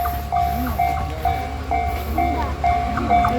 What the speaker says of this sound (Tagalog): And stop muna kami guys kasi may train na dadaan.